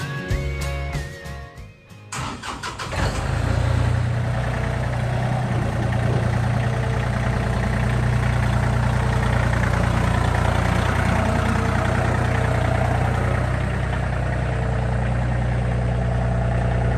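A MechMaxx SG24 stump grinder's engine runs steadily and loud, a constant low drone that starts after a brief quieter moment and holds without a break.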